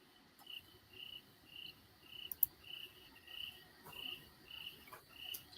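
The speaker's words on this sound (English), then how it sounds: "I hear the crickets, Dawn." Crickets chirping at night, a faint, regular pulsing trill repeating roughly twice a second, with occasional soft clicks and no voices.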